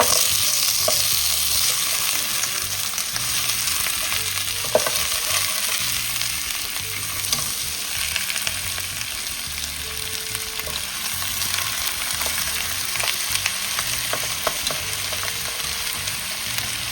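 Beef feet sautéing in a little olive oil, a steady dense sizzle holding for the whole stretch with occasional stirring clicks and some low background tones.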